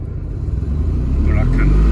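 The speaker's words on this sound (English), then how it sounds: "it's pretty rough idling" A turbocharged rotary Mazda RX-7 FC engine idles roughly up close at about 700 to 800 RPM, its low rumble uneven and pulsing, growing slightly louder, with a brief voice in the middle.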